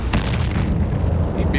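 Missile impacts and weapon fire in EVE Online, a dense continuous barrage of booming rumbles with a sharp burst near the start, loud and sustained with no clear gaps.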